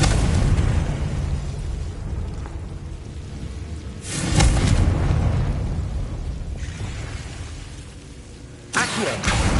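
Booming blasts of the Confringo fire spell in the video game Hogwarts Legacy, with two or three heavy, rumbling explosions separated by quieter stretches, the loudest near the middle and another sharp burst near the end.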